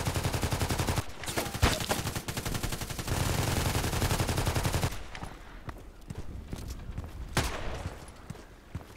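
Loud, close bursts of assault rifle fire in the shooter game Contract Wars: dense rapid volleys at first, then scattered single shots and short bursts.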